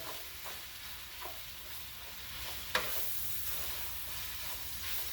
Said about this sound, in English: we let that simmer